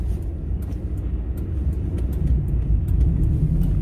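A car engine struggling to idle on a winter mountain drive, a low uneven rumble that is fairly loud and steady, with faint clicks and ticks scattered over it and no voices.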